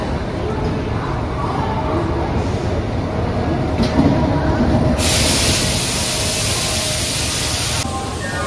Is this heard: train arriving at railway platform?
yes